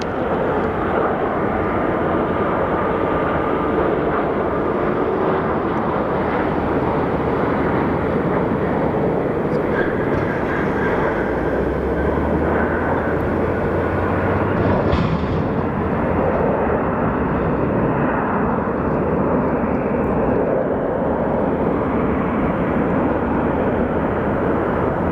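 Southwest airliner arriving at Phoenix Sky Harbor Airport, a loud, steady broadband engine roar that holds throughout with a slight swell midway, no talking.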